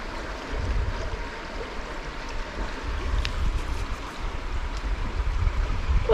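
River water flows steadily beneath an old bridge, a soft, continuous rushing wash heard from nearby with no voices.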